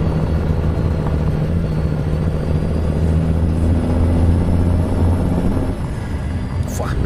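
A Kenworth T600 truck engine in American Truck Simulator drones with a loud, steady low rumble and a constant hum, holding almost level throughout before easing slightly near the end.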